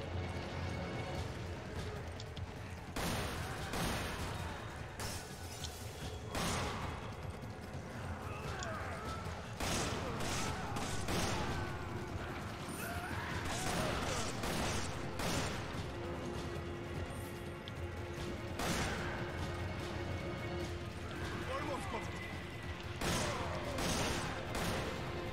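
Magnum revolver fire in the game Resident Evil 5, powerful shots cracking out at irregular intervals over continuous combat clamor and scattered impacts.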